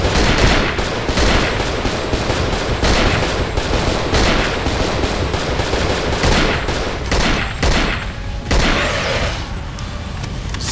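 A zombie with a gun fires in the video game Cold Fear. Dense, continuous gunfire and booms roar loudly throughout, with the din easing only slightly near the end.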